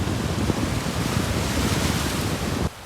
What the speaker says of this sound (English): These waves are perfect today.